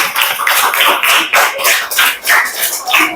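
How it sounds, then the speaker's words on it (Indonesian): Class of students clapping in a schoolroom for a group after a presentation, a dense run of loud rhythmic claps with some scattered murmur. "Tepuk tangannya buat kelompok 6."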